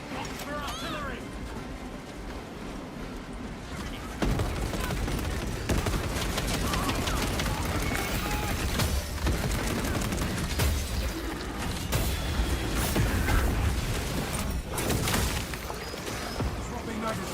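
Artillery and gunfire in a science-fiction war video game roll on continuously, with heavy booms and dense bursts of shots layered under battle noise, and voices talking over much of it.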